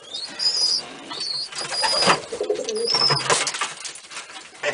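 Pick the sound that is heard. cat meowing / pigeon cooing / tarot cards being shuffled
pigeon cooing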